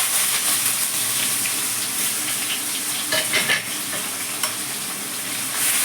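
Loud continuous sizzle of crushed shallots, garlic and ginger frying, with occasional scraping and clinking as the pan is stirred, up close.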